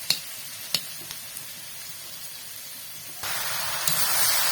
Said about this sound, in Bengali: ডালটা নামিয়ে দেখো আলুগুলো ভেজে নিচ্ছি